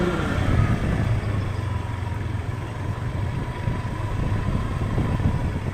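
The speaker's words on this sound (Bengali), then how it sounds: "সব বাইক ভাড়া করে ঘুরতেছে" Rented motorbikes ride along a seaside road, making a steady, close engine rumble that holds fairly even throughout, with no clear individual pass-bys.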